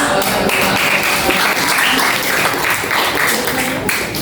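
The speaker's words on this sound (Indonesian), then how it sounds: "Baik, kita beri tepuk tangan." Classroom applause after a student group presentation, steady and close clapping from many hands with voices talking underneath throughout.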